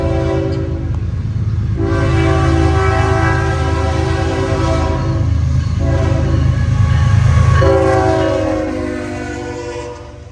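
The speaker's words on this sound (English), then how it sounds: "I can now clearly see the original southbound rumbling my way." A southbound freight train rumbles past at close range, sounding its loud, sustained horn over a steady roar of rolling cars and wheel clatter.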